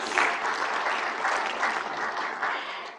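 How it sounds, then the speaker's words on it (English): Applause from a conference audience at an IRENA pre-assembly session, a steady dense patter of many hands clapping that stays fairly even before tapering slightly at the end. "A round of applause, please."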